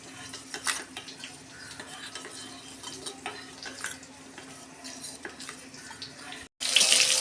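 A spoon stirs a watery spice paste of turmeric, cumin and coriander powder in a small bowl, clinking softly and irregularly. A steady low hum runs underneath, and a louder splash of liquid comes at the very end.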